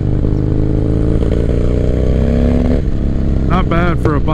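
A 1985 Harley-Davidson FXR motorcycle, custom built, rumbles steadily and loudly while being ridden, its low engine drone continuous throughout, with someone talking over it toward the end.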